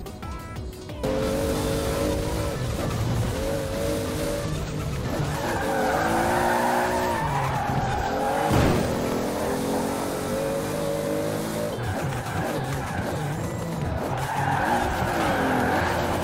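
A car drifting in the Forza racing game, its tires squealing in long wavering skids over a strained engine note, continuous and loud from start to finish with a brief dip midway and no voices.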